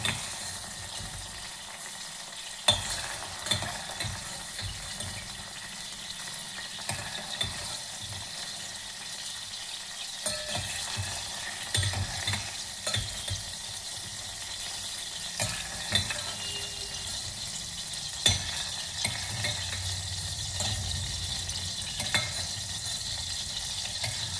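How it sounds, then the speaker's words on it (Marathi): Kashi val beans (dudh mogra) frying in a pan: a steady close sizzle runs throughout, broken by occasional scraping stirs and clinks of a spoon against the pan, with no one talking. "दाणे तळून झालेले आहेत।"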